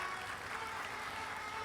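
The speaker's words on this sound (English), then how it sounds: "let's give a big round of applause" Steady applause from a crowd at a medical college convocation, a dense wash of clapping at moderate distance, continuous with no voices.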